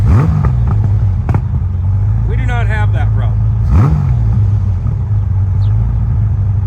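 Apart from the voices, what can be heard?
motorcycle engine revving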